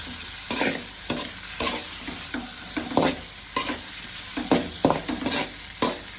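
Tomatoes sautéing in a pan for thakkali thokku, a constant sizzle punctuated by regular rhythmic scrapes of a spatula stirring, close and clear with no talking.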